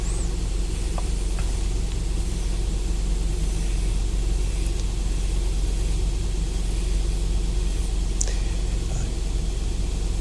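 An oscillating sander chamfering the edges of a wooden pinewood derby car body: a steady, loud, unbroken broadband whir and rumble held throughout.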